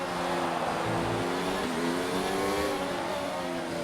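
F1 2019 Formula One car engine in a racing game at the Abu Dhabi circuit, shifting down through several gears, loud and steady with stepped, falling engine pitch and no talk over it.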